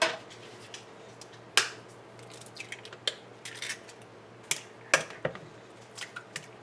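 Eggs cracked against the side of a bowl while mixing a dessert batter in a home kitchen, a series of sharp, close clicks and taps scattered irregularly over a quiet background, about a dozen small hits.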